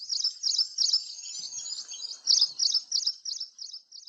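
Birds in Bombay chirp in quick, bright bursts, several high tweets repeating in close clusters with brief pauses between them, loud and near against an otherwise quiet background, with no talking.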